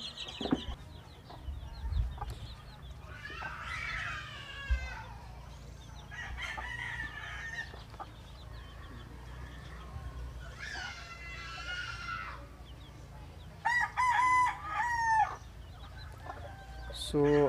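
Chicks and chickens at a Cebu boatbuilding site, with repeated bursts of clucking and crowing rising over a low steady hum, some calls close and loud, others fainter.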